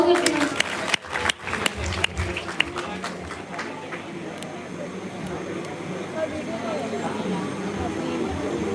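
An audience at a university World Heart Day celebration applauds for a students' short play, a dense, fairly distant clapping wash that follows a few sharper early claps and settles into a steady rumble.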